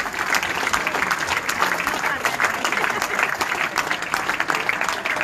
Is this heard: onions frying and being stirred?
no